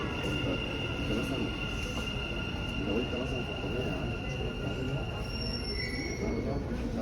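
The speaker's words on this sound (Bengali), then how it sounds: "এই যে মেট্রো আয় পড়ছে" A Dubai Metro train arriving at the platform, a continuous rumbling roll with faint high whine and squeal, moderately loud, while someone talks over it.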